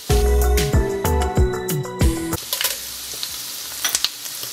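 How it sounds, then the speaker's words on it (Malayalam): Dried red chillies dropped into hot oil for lemon rice sizzle loudly, with metallic clanks of a pan or spoon at first, then a steady crackling fry alone. "നമ്മളിതിനകത്തേക്ക് ഇനി ഉണക്കമുളക് ഇടുകയാണ്."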